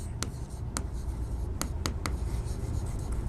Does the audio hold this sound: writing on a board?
yes